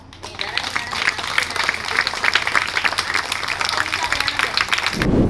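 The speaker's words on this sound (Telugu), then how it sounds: "మరొకసారి వాళ్ళ క్లాప్స్ కొడదాం" An audience claps steadily and fairly loudly through the whole stretch, a dense continuous patter that stops abruptly near the end, with a voice briefly heard over it.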